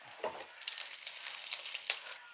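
Mustard seeds, chopped shallots, dried red chillies and curry leaves sizzle in hot oil in a brief crackling burst, with a sharp spatter near the start and another toward the end.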